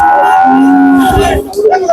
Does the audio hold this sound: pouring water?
no